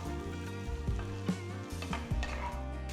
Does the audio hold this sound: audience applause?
no